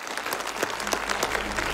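An audience applauds loudly and continuously, with dense, uneven clapping spread throughout and no talking over it.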